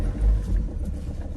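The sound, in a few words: Renault Trafic van engine pulling away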